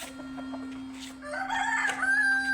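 Close chickens cluck and a rooster crows loudly, with a steady background hum underneath.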